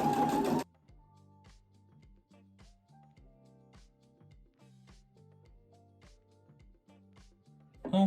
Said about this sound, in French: Let's go en machine, on va coudre en noir.